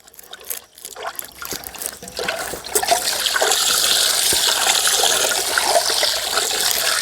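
Water is poured into a pot for mutton dum biryani. It starts as a splashy trickle and settles into a steady, loud stream for several seconds, close up, with no talking.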